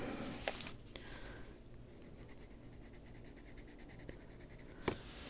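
An eraser rubs out pencil lines on an animal drawing, making soft, quiet scratchy strokes in short repeated bursts with a couple of small taps, close and alone.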